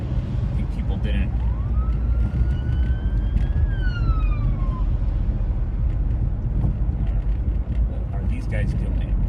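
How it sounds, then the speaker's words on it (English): A police car siren rises and falls once, heard faintly through steady wind and rumbling traffic noise on Lake Shore Drive, Chicago. "there's 2 police cars behind me that are"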